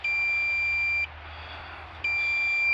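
A drone remote controller beeps during a battery firmware update: a steady high electronic tone holds for about a second, cuts out for a second under a faint hiss, then starts again, loud and close.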